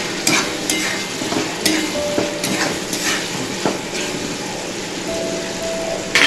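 Spices with a pinch of asafoetida fry and are stirred in a pan with tomatoes for a green pigeon pea curry; a steady sizzle runs throughout, broken by repeated scraping strokes of a spoon, close and fairly loud, with no talking.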